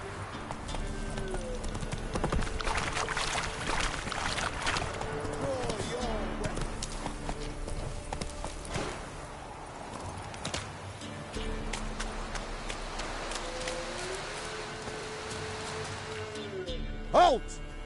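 Steady, rhythmic hoofbeats of a horse galloping in The Witcher 3: Wild Hunt fill most of the stretch, with a voice speaking over them and a brief sharp hit near the end.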